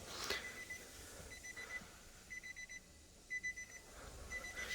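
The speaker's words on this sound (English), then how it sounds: "It's just beeping at us because the door's open and the ignition is on." Quiet electronic warning beeps from a Nissan Elgrand signalling the door is open with the ignition on sound in short repeated bursts at a regular pace over faint background noise.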